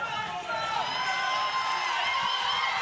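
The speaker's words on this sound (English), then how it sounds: "A lot of American fans here cheering for him right now" American fans cheer and whoop at the weightlifting world championships, a steady, even roar of crowd noise filling the arena with a few higher shouts rising out of it.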